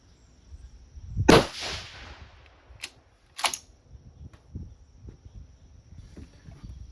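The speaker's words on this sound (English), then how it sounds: "I think maybe what we'll do is we'll just shoot over to the left here somewhere." Two sharp rifle reports from a Staball 6.5 being fired outdoors during load work, about two seconds apart, each a crisp crack with a short decaying tail over quiet background rustle.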